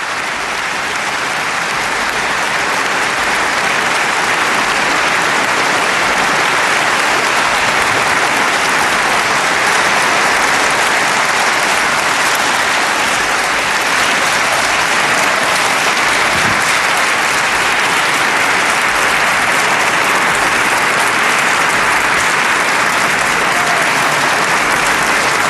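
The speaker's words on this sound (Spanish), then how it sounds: "Este es el aplauso atronador que recibe el presidente del Comité Noruego del Nobel" Thunderous applause at the Nobel Peace Prize ceremony for the Norwegian Nobel Committee chair, a dense, loud, sustained clapping from a large crowd that continues unbroken throughout.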